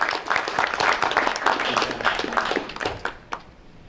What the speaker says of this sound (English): So I think we can give you a round of applause, Ann Clark.